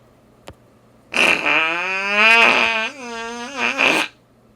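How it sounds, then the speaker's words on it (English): A comic fart sound effect with a rising and falling tone runs for about three seconds, loud and alone, preceded by a brief click. "Or put a fart sound."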